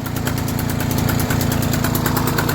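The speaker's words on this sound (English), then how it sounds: "The Stuart is running." An old Stuart Turner two-stroke boat engine runs at a steady idle, a fast, even chugging pulse that is loud and close, with no voices over it.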